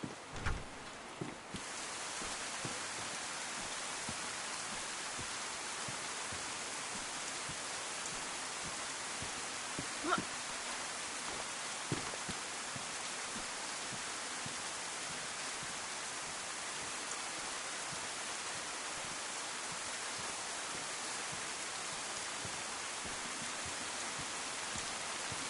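Rain pours steadily in the DayZ wilderness, a continuous soft hiss holding at the same level for a long stretch, with a few faint taps and no one speaking.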